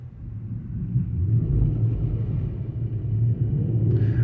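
A car pulls away on snow with the snow mode switch engaged, giving a steady, loud low engine rumble that builds slightly and holds, with no one talking.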